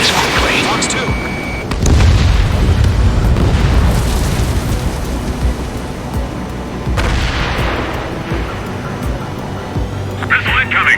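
Missile launches and explosions during an Ace Combat 7 aerial dogfight: loud booming blasts and rushing bursts that rise and fall over the combat noise, with voices talking in between.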